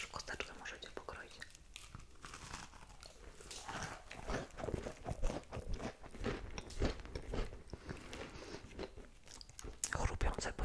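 Crunchy bites and chewing of warm, freshly baked cake, close and soft, with repeated crisp crunches and mouth sounds under quiet whispering.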